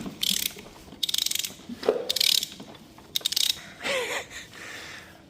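A ratchet turns the engine of a Ford Fiesta ST180 over by hand, giving quick bursts of bright, rapid clicking with short pauses between strokes, close by and fairly loud.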